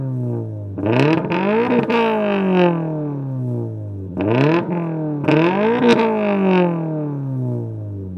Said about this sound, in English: This particular 86 has a AWE Track Edition catback